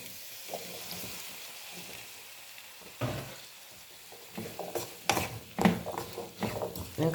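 Chickpeas tipped into frying masala in a pan for a cauliflower-chickpea thoran, a low steady sizzle giving way to louder clattering stirs and scrapes in the second half, with no talking.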